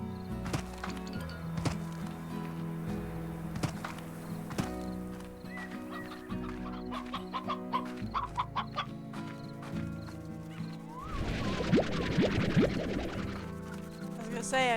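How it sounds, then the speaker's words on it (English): A chicken spawning in the game Slime Rancher 2 gives a short burst of bright, chirpy clucking notes late in the clip, rising over steady game music and scattered clip-clop effects. "I just heard the chicken spawning doo-doo-doo sound."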